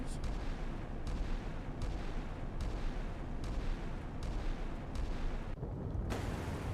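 Naval guns fire in a combat video game set in a 1985 Baltic Sea operation, heavy booms repeating roughly every second over a dense, rumbling battle bed.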